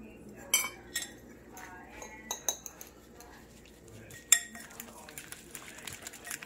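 Utensil clinks and scrapes against a bowl while keto chaffle batter of egg, a pinch of seasoning and sweetener is mixed, with sharp irregular taps and a louder strike near the end, close and fairly quiet.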